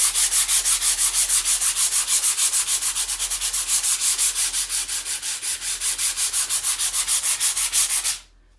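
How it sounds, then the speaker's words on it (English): Chalk paint is sanded by hand with 120 grit sandpaper, a loud, close, fast back-and-forth rasp repeating steadily for about eight seconds before stopping abruptly. "This one here, the 120. And let's just sand it and see what it looks like."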